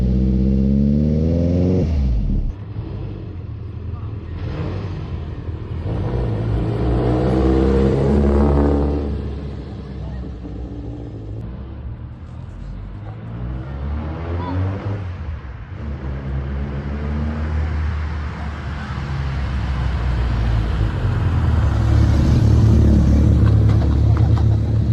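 Inside a noisy twin-engine Vauxhall Corsa on the move, a loud droning engine roar that rises and falls as it revs and accelerates, with heavy rumble throughout.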